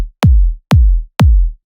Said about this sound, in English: So the kick drum in question sounds like this.